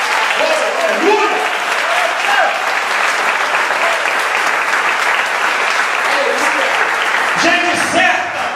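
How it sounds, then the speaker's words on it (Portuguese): A church congregation breaks into sustained applause, a dense wash of clapping that carries on throughout, with shouting and a speaking voice rising over it at times. "Você pode aplaudir o Senhor por isso?"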